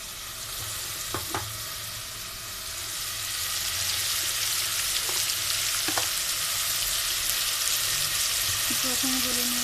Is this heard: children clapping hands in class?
no